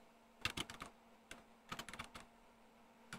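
A command is typed on the small keyboard of a PicoCalc handheld computer: two quick bursts of close, crisp key clicks separated by a pause, ending with a single keystroke.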